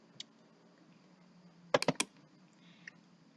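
A short cluster of computer keyboard keystrokes, four or five quick clicks close together, with a couple of faint isolated taps before and after in a quiet room.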